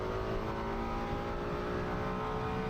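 GT3 race cars, the number 7 Comet Racing Ferrari chasing the 81 Nissan at Okayama in the Japan Cup, roar in a loud, continuous engine drone that stays steady throughout.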